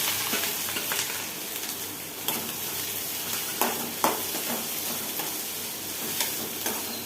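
Mustard seeds, onion and green chillies frying in a pan, a steady close sizzle with occasional stirring scrapes and small pops running throughout, no voices.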